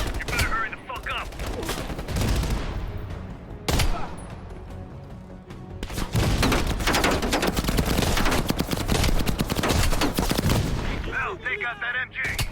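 Intense, sustained machine gun fire in the Call of Duty Black Ops Cold War game, with rapid bursts and explosions layered loudly through a chaotic battle soundscape, briefly broken by short pauses.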